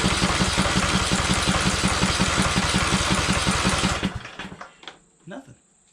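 Briggs and Stratton small engine cranking, a fast, even mechanical chugging for about four seconds that stops abruptly, followed by a few faint clicks and knocks.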